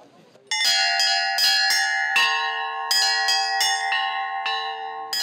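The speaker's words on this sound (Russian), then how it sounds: "здесь всю пасхальную неделю проходил целый фестиваль колокольного звона" Church bells ring out loud and clear at an Easter week bell-ringing festival in the Nizhny Novgorod Kremlin, in an irregular cascade of overlapping strikes, each tone lingering and ringing on over the others.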